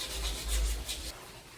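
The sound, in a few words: rubbing rust off a metal window grille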